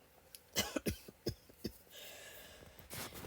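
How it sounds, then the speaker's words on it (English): Several short, sharp coughs in quick succession, close and fairly loud, followed by a quieter rustling stretch with a final throaty burst. "I'm already coughing and didn't bring a drink"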